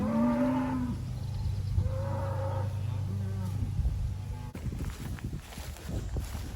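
Dexter cattle grazing in a planted summer annual field moo several times at close range, drawn-out calls in the first half, followed by shuffling steps and rustling while a person speaks.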